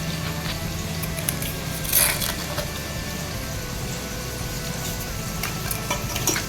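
Chicken pieces kneaded by hand with yogurt and salt for biryani, soft wet squishing and squelching at close range, continuous with a brief sharper smack near the middle.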